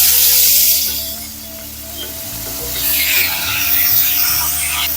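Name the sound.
fish pieces added to hot oil, sizzling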